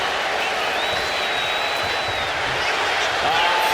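In the WWE 2K25 wrestling video game, an arena crowd roars in a steady, loud wash of cheering that holds constant throughout.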